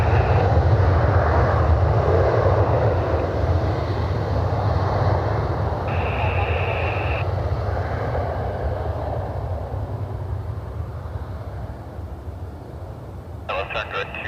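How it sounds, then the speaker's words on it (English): A Southwest airliner departs the airport, its jet engines a loud broad roar that slowly fades over several seconds, with a brief higher tone partway through and a short clicking near the end. "Southwest heading out to the Valley of the Sun, Phoenix Sky Harbor International Airport."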